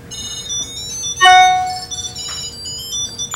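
Key tracker ringing from inside a purse: a soft, muffled electronic chime with a brief brighter tone in the middle, heard close over quiet background rustling.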